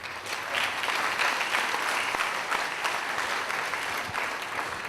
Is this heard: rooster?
no